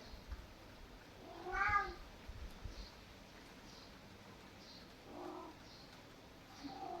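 A cat meows clearly once, then gives a few fainter, shorter mews spaced apart over a quiet background.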